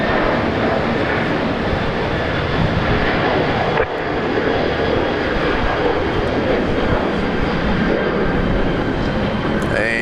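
Jet airliner taking off at Brisbane Airport, a loud, steady broadband engine roar filling the whole clip without pause, with a voice faintly heard over it.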